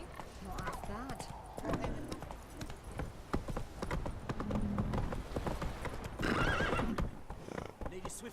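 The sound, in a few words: horse hooves of Roach in The Witcher 3 video game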